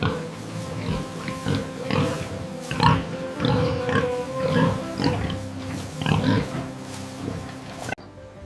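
Pigs on a modern pig farm grunt and oink continuously, several animals close by in a dense overlapping chorus with no talk.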